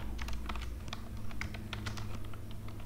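Code being typed on a computer keyboard for a React grid layout: close, quick, irregular key taps run continuously over a low steady hum, without speech.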